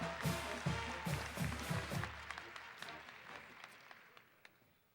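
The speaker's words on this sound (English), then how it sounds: "let's have a final round of applause for our student athletes from North Garland High School" Applause from an audience at a high school athletes' signing day event, a burst of clapping with a few louder claps up front that gradually fades and thins out over a few seconds.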